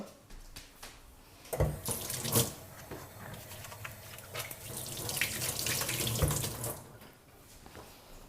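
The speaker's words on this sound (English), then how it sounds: "So I'm gonna wash up" Water runs steadily from a kitchen tap into a sink while hands are washed, with splashing rises and falls, close by and with no talk.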